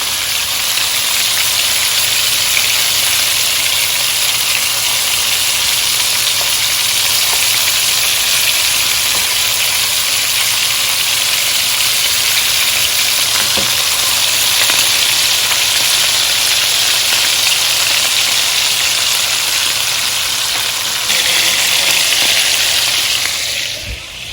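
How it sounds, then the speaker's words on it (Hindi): Meatballs fry in hot oil in a pan, browning on the outside, giving a loud steady sizzle and crackle that carries on evenly throughout, with a brief change near the end. "तो बस इनको पकाना नहीं है आपने, इनको सिर्फ आउटसाइड से फ्राई करना है।"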